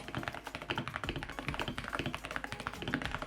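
Rapid, dense keystrokes clatter on a cheap 65% keyboard with Hall effect switches, a deep, muted thock in a steady typing rhythm, quiet and close with no talk.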